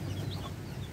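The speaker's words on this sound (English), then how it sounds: "My hen today just hatched, and she has 6 little chicks." A mother hen with six newly hatched chicks, soft low clucking close by, faint and brief.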